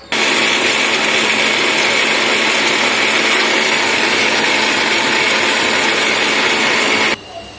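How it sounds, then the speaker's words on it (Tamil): Mixer grinder whirring steadily as it grinds fresh coconut for sambar, a loud continuous motor drone lasting about seven seconds before cutting off abruptly. "வாங்க இதை அரைச்சிக்கலாம்"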